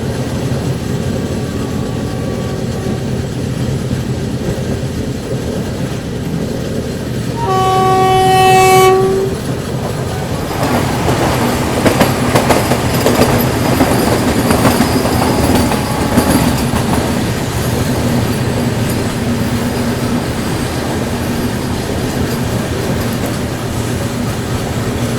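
The Vande Bharat Express from New Jalpaiguri to Howrah sounds a loud, sharp horn blast, then rumbles past close by with rhythmic clattering wheels and screeching metal for a long stretch, heard from another train stopped on a loop line at a small station.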